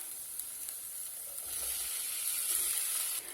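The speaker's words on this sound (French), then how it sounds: "les poireaux sont en train de colorer dans la cocotte" Leeks sizzle steadily in a cast-iron pot while cooking for a leek and potato soup, a continuous close, bright frying hiss that swells slightly louder midway.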